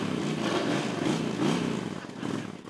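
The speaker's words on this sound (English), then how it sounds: "Revving up their motors" Motorcycles revving engines at a bikers' roundup in Cumberland, a rumbling layered engine drone rising and falling close by, with no talk.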